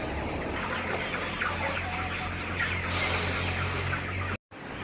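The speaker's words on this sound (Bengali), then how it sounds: "ফার্মের মোরগগুলো সব আলাদা আলাদা করে রাখা" Chickens cluck in a dense, continuous murmur inside a poultry farm holding about four thousand birds, with a steady low hum of fans underneath and a brief cut near the end.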